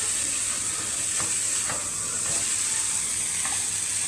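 Soy sauce hits noodles frying in a hot pan, giving a steady broadband sizzle and hiss with a few faint clinks of stirring, continuous and fairly close throughout.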